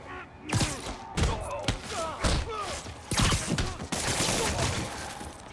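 Gunfire in the Marvel's Spider-Man video game, with dense bursts of shots and thuds layered over one another, loud and continuous, while shouting voices talk over the fighting.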